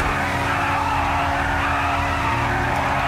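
Car tires skidding and squealing as a car spins out during a GTA V roleplay race: a loud, continuous screech over engine roar, sustained throughout, with no talking.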